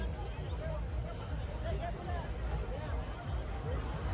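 Crowd gathered for the Kolhapurcha Chintamani Ganesh idol arrival procession in Kolhapur, a steady dense babble of many voices close around, with someone talking over it.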